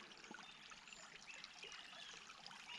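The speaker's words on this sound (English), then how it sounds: "And water, babbling water." Water trickles and babbles in a river stream, a faint, steady gurgling with light splashes throughout and no voices.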